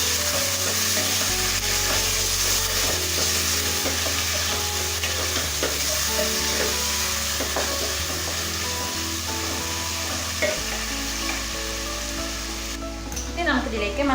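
Washed chicken pieces frying in a pot and being mixed, with a loud continuous sizzle and repeated scraping and clattering of the spoon against the pot, close up and without talk.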